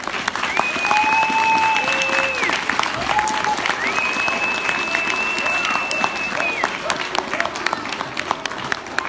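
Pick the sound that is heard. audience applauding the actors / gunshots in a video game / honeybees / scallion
audience applauding the actors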